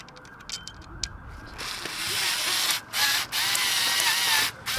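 Electric hand screwdriver driving screws into rattan garden furniture during assembly, heard as a loud, steady whirring motor with short pauses between bursts, close up, following some faint clicking handling noises.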